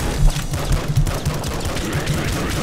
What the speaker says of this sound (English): This is going to be a pistol kill on this guy.